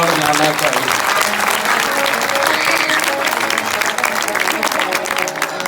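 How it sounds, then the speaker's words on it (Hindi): Dense, loud applause from a live audience at a Chhattisgarhi comedy Ramayana stage show, steady clapping throughout with crowd noise and a background voice. "एक बार जोरदार ताली बजा"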